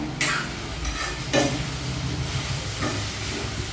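Masala sautéing in a pan, a continuous close sizzle broken by several sharp scraping strokes of a spoon across the pan at irregular intervals, with no talk.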